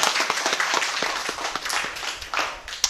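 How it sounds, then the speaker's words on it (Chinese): An audience at a Taoshan village gathering claps in welcome, a moderate patter of separate handclaps at medium distance, with a little talk mixed in. "我们掌声鼓励，欢迎。"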